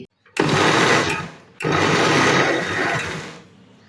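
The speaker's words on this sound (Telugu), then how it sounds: "వీటన్నింటిని మెత్తగా మిక్సీ చేసుకోవాలి" A mixer grinder whirs loudly in two bursts, grinding a spice paste with chilli powder, salt and turmeric, stopping briefly in between, with a steady high-pitched motor roar and no voices.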